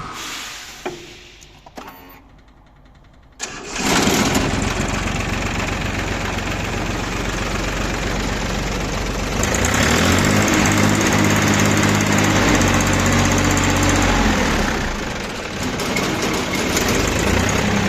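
An ISEKI mini tractor engine cranks with a few clicks, then catches and runs loudly in a steady, rattling drone, growing a little louder and rougher for several seconds before settling back to an even run.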